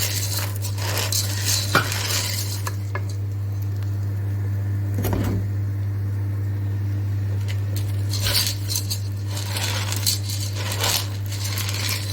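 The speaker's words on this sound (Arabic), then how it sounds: "وهنا بنعمل في المكرونة. ننزل نقلب فيها كويس جدا لحد ما توصل من لون الذهبي" Pasta stirred as it fries golden in a pan, giving a steady soft sizzle with occasional scraping clatters over a constant low hum; no one speaks.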